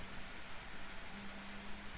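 Faint, continuous rain patters in the video game Mount & Blade: Warband, a constant low hiss with a quiet hum beneath it.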